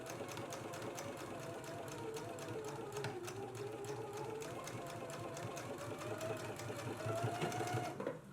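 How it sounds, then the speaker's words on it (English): A sewing machine runs continuously, top stitching a quarter inch along the upper edge of a dress pocket, a steady close mechanical hum with rapid rhythmic needle clatter throughout. "let's go ahead and do our top stitch right here along the upper edge at a 1/4 inch"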